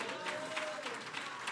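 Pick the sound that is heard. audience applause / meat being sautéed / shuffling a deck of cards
audience applause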